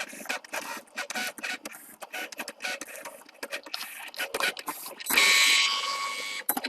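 A Cricut machine cuts A4 paper with its first cut landing about a millimeter off. Close, rapid clicking and whirring bursts play for several seconds, then a louder, steady motor whine sustains to the end.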